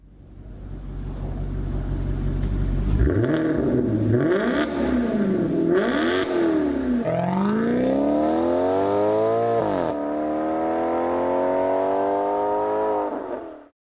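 A Maserati 4.7-litre V8 revs hard, alone and close. Its pitch climbs and falls through several throttle blips, then holds in long rising pulls with a steady, loud engine tone.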